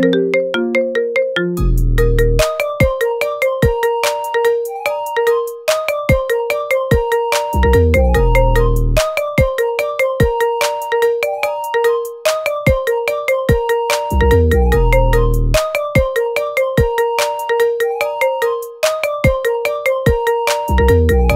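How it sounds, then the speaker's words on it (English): A bright mallet-struck ringtone melody loops repeatedly, crisp percussive notes in a steady rhythm with a low thump marking each cycle, loud and clear. "Get this cool ringtone for your phone now."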